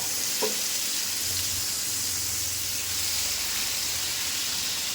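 Ridge gourd frying in a pan as it is stirred, a soft continuous sizzle and hiss with a faint clink near the start, fairly quiet and without talk.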